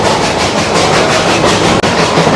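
Puffing Billy, a heritage steam train in an Australian rainforest, rolls along the rails with loud, close, continuous rumbling and rhythmic clatter, broken by one brief dip.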